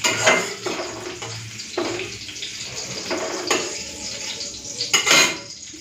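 Fried cauliflower and capsicum are lifted out of a pan, with metal utensils scraping and clinking against cookware in a few sharp bursts among quieter kitchen clatter nearby.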